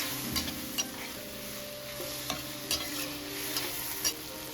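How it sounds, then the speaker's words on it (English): Sliced bitter melon sizzles steadily in a hot pan as a spatula stirs it, with a few soft clacks and scrapes against the pan over a constant close frying hiss. "Keep stirring until the melon gets soft."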